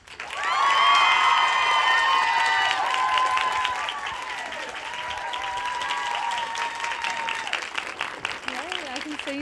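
An audience applauds and cheers loudly as a fitness personality is welcomed onto a stage, a dense wash of clapping and whoops that peaks early and then holds at a slightly lower, steady level with voices mixed in.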